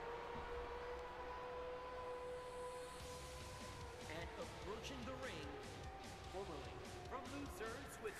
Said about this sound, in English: What is that tornado siren?